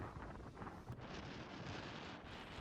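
Wind and surf on Lake Superior, heard from the high sandy dune at Log Slide Overlook, come through as a continuous broadband rush with wind buffeting the microphone, a steady and fairly faint roar with no voices.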